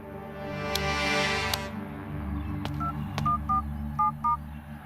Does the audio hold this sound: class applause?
no